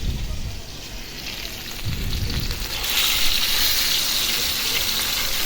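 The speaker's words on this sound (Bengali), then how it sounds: "এই যে দেখুন আমার তেল গরম হয়ে গেছে এখন আমি মাছটা দিয়ে দিলাম" Kural fish goes into hot oil in a pan, giving a soft, rain-like frying hiss that swells and brightens partway through and holds steadily, close by, with no talking.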